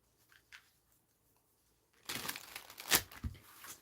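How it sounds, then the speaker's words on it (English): Tarot cards shuffled by hand at close range: a couple of faint taps, then about two seconds of papery rustling and crisp riffling, with one sharp snap near the end. "Only because I haven't really shuffled them good."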